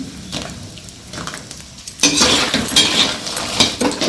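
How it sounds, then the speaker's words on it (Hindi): Fox nuts (makhana) roast in ghee in a kadhai, a quieter stirring scrape at first, then a louder crackling sizzle with clinks of a spoon against the metal pan. "मखाने डाल देंगे। घी डालेंगे इसमें।"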